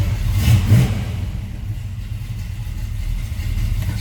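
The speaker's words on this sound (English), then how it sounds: "We'll go ahead and start this up. So you can hear that 350 run." A 1969 Chevrolet C10 Stepside pickup's 350 V8 runs nearby with a deep, loud, steady rumble, a couple of light revs near the start, then settles into an even idle.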